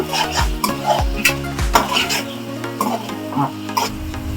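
Andhra-style fish curry masala fries in a pan, with loud close metallic scrapes and taps of a spoon stirring over a steady sizzle.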